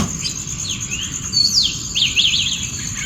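Sparrows chirp in a morning tree, thin high tweets repeating over a steady bed of insect or cricket buzz, fairly close and with no talk.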